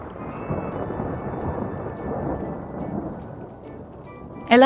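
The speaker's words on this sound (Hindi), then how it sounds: "बाहर मौसम बहुत तूफानी है।" Stormy weather with heavy rain and rolling thunder, a dense steady rumble and wash of rainfall, closing with a brief sharp burst of sound right at the end.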